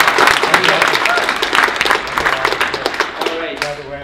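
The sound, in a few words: audience applause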